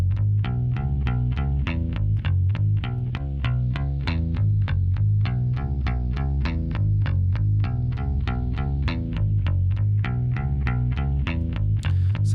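An isolated bass guitar shaped with a Pultec EQ plays a steady stream of plucked notes in an even, driving rhythm, full and loud, with a bright string snap and a chorus-like, slightly distorted sheen.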